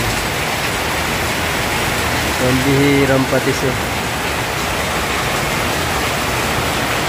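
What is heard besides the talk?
heavy rain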